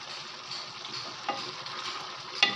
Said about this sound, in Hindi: अब हम थोड़ी सी आग तेज़ करके तो इसको भून लेंगे थोड़ा सा।